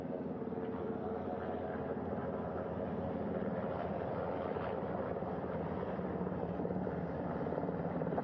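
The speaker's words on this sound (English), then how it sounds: "The first helicopter coming in." Military helicopter approaching a ship's flight deck at sea, a steady loud rotor and engine roar with continuous low thumping, close by and unbroken throughout, no talk.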